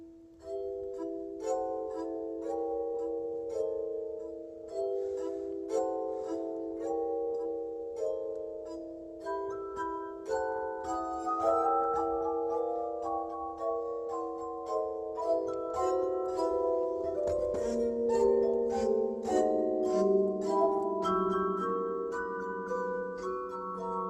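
The Glass Duo play a melody on water goblets of different sizes, sustained ringing tones rising and layering into chords, clear and resonant with no talking.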